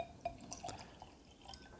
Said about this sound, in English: You'll get a couple little drips as it kind of just works its way through the coils